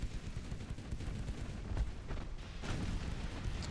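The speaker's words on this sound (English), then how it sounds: "Switch the secondaries to fire at that light cruiser." Naval secondary guns firing at a light cruiser in a video game, heard as a dense, low rumbling barrage of booms with a few sharper reports, fairly quiet and continuous.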